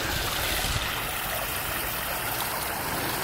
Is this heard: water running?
yes